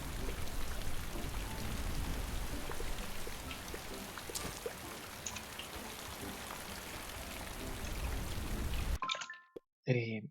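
Steady rain from the video game Paleo Pines, a dense loud hiss of falling drops that runs continuously, then cuts off abruptly near the end, leaving brief silence and a short burst of other game sound.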